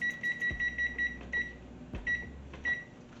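Oven control panel beeping as the temperature is set to 450 for roasting a Puerto Rican pork shoulder, a run of short, evenly spaced electronic beeps in several bursts with brief pauses and low clunks between.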